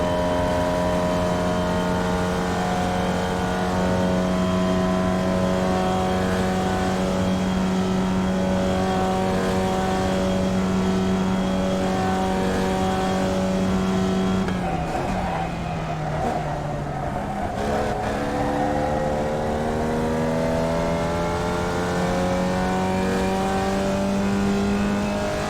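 A race car engine in the iRacing sim at Summit Point Raceway holds a loud, steady high drone, then dips and climbs through a brief downshift and re-acceleration midway before settling back into a sustained whine.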